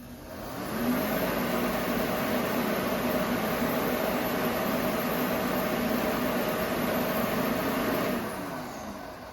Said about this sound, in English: it just looks like we're just getting the machine to run, but we're not getting any ignition